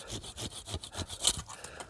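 A hand saw works through a tree branch during pruning, its rhythmic back-and-forth strokes rasping close and steady, about eight quick pulls in under two seconds, with no talk.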